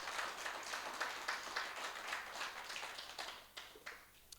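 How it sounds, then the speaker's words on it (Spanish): A church congregation applauds during a Spanish-language worship service, steady clapping heard faint and distant, tapering off toward the end. "De un aplauso al Señor"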